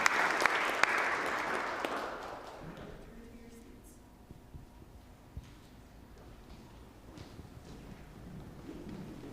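Applause from an audience at a university tapping ceremony, loud and dense for the first couple of seconds, then thinning out into faint scattered claps and room noise.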